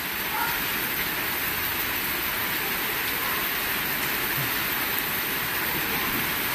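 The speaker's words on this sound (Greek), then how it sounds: "Αξιολογότατη βροχούλα." Steady rain pours during a thunderstorm in Athens, a loud, constant hiss of water falling on surfaces with a low rumbling undertone and no break throughout.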